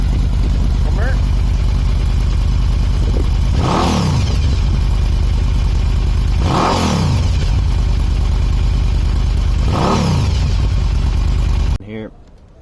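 A motorcycle engine idles with a steady clatter and is revved three times at even intervals, each rise and fall clear and close, before cutting off abruptly.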